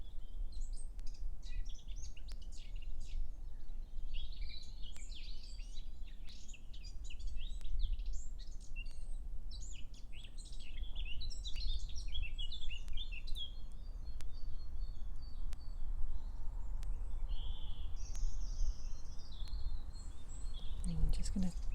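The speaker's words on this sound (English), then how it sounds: "listening to the incredible bird song on this lovely spring day" Birds sing and chirp outdoors on a spring day, with scattered calls and tweets running continuously over a low background rumble, moderately distant and steady throughout.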